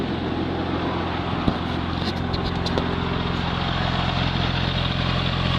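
A 2002 Porsche 911 Twin Turbo engine idles steadily with the engine compartment open, giving a constant low mechanical hum with a couple of faint clicks and no talking.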